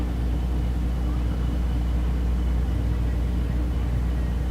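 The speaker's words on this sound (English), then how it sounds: "I hear cars running" Race cars running at the Thunder Valley drag strip in Noble, Oklahoma, during Race Week 2021, heard as a steady, dense low engine rumble that holds at an even level throughout, with no distinct passes.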